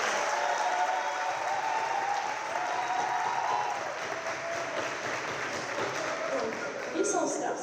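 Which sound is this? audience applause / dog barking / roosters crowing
audience applause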